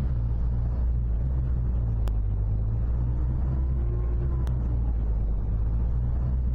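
A small car's engine rumbles steadily in the indie horror game Egg Fried Rice, a constant low droning hum with a couple of sharp clicks, close and unbroken.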